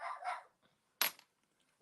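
A single dog gives a short bark, then a sharp yip about a second later, in a quiet room between stretches of silence.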